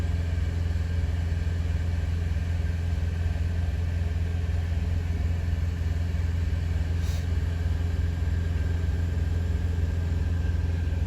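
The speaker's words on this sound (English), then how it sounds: "It's a quiet little truck stop." Steady low engine rumble of idling trucks fills a quiet truck stop lot, continuous and even with no voices.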